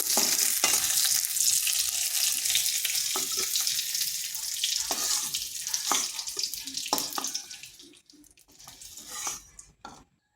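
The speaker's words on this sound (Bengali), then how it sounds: "কিশমিশগুলো একটু ভেজে নিচ্ছি।" Raisins frying in hot ghee in a pan, a loud bright sizzle with spatula scrapes and a few metal clinks. The sizzle thins out and fades toward the end, leaving sparse knocks.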